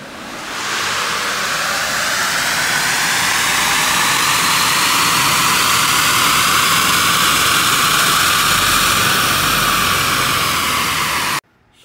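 A 2017 Tesla Model S 75D runs on a DynoJet dyno, making a loud, steady, broad roar and whine. The sound swells briefly and then cuts off abruptly at the end.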